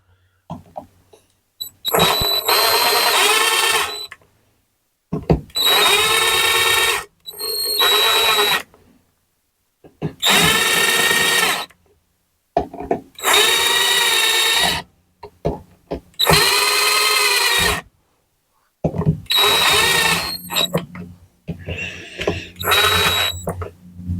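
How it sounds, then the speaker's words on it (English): Impact driver running bolts into a 4L80E transmission: six or seven loud bursts of whirring, hammering rattle, each lasting one to two seconds, with short silent gaps between them. "just drive them in with my little impact"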